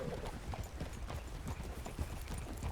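A horse's hooves clip-clop in a steady, rhythmic walking pace, soft and fairly distant, over a low background hush.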